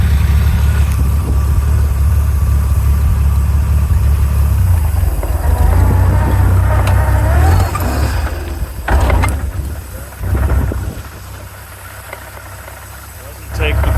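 A V6-swapped Ford 2N tractor drives in high gear, its engine a steady low drone for several seconds before the throttle drops off and the note falters and dips, with someone talking over it.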